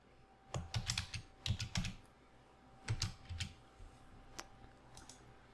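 Typing on a computer keyboard while entering text into a slide, several short bursts of close, crisp key clicks separated by pauses, quiet and without speech.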